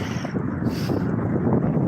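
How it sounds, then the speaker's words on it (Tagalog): Strong wind roars and buffets the microphone with a constant low rumble, loud and gusty throughout. "Rinig nyo ba yung hangin?"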